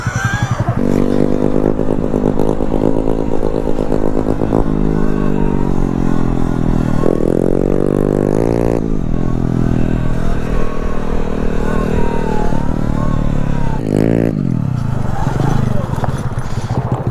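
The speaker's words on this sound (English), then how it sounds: "Little trail action on the Grom." A Honda Grom motorcycle rides a dirt trail with its small engine revving up and down continuously, close and loud, pitch rising and falling through gear changes, with occasional clatter from the rough ground.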